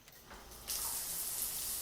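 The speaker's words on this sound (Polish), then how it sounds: "Weź prysznic podczas gdy pizza się podgrzewa." Shower water running in the horror video game Crime Detective: Red Flags, starting as a quiet trickle and then switching on to a steady, loud, broadband rush of spray that continues alone.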